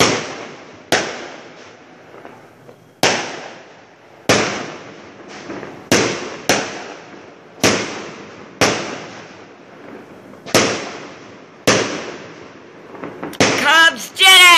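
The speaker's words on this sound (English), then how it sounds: "Everybody's celebrating the Cubs win and all my neighbors are blowing off fireworks." Fireworks going off nearby around a neighborhood in celebration of the Cubs' World Series win, about a dozen sharp, loud bangs each followed by a decaying rumble, spaced irregularly at roughly one-second gaps, with a crackling burst near the end.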